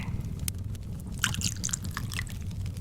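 Fresh water trickles and drips into a glass chamber holding broken-up flowers, a close, quiet run of small liquid splashes and droplets over a low steady background.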